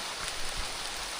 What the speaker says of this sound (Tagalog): Ngayon na ba umulan?